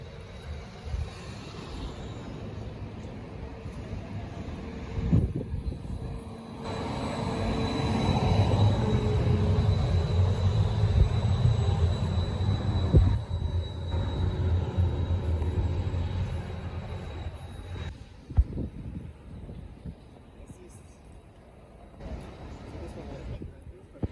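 A tram in Basel rumbles past with a low, rolling roar that swells and fades, a faint squeal riding over it, while people talk nearby.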